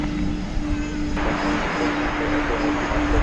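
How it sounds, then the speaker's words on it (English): An MD-11 jet airliner taxis at DFW Airport at night, making a loud, steady engine roar and whine with a sustained tonal hum. The sound rises in brightness partway through as it passes, with no clear talk. "This is the MD-11"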